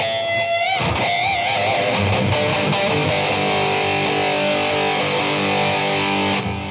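A heavily distorted electric guitar through a Joyo JF-315 Metalhead distortion pedal roars continuously, loud and saturated, with sustained notes and a squealing high edge throughout.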